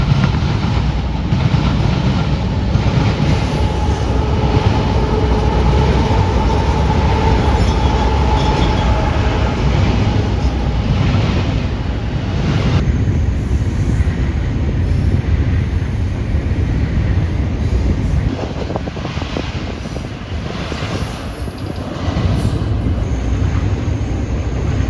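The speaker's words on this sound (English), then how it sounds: "an eastbound BNSF intermodal which absolutely pounded the diamond with the CPKC line" An eastbound BNSF intermodal freight train hammers across a railroad diamond crossing with the CPKC line, a loud, continuous rumble of wheels and cars rolling close by throughout, with rhythmic clatter and no talking.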